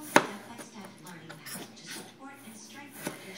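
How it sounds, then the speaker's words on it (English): Knife thinly slicing potatoes on a board, a sharp first cut followed by a series of softer irregular chops and a final louder strike, close by, with a voice murmuring over part of it. "I'm going to thinly cut them."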